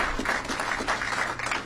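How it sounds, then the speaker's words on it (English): Audience at a Florida press conference with the governor breaks into a steady round of clapping, moderately loud and continuous, with no talk over it. "So again, another round of applause."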